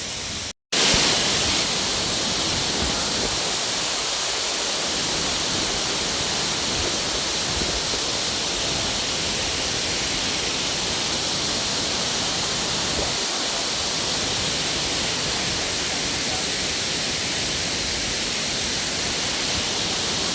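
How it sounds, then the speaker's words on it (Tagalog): Strong, steady rush of water pouring over a waterfall, a dense, continuous roar filling the whole clip at close range with no voices. "tuloy-tuloy lang yung awas ng tubig"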